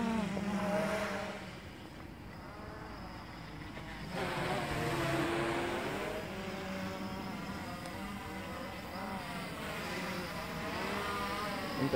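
A Blade 350 QX3 quadcopter drone at full throttle gives a buzzing, whining rotor drone whose pitch rises and falls as it flies close by, continuous and fairly loud with no talk.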